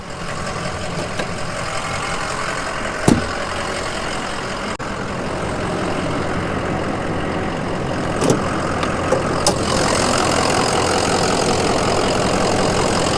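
A 2004 Ford Excursion's 6.0L Powerstroke diesel engine idles with a steady, close rumbling clatter throughout, with a few faint clicks over the drone.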